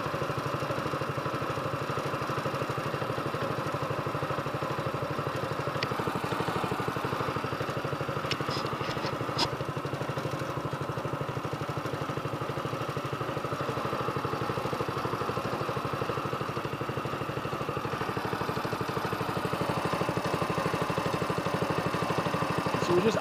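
A fishing boat's engine idling offshore, a steady low rumbling drone that holds even for the whole stretch, close by, with someone speaking now and then over it.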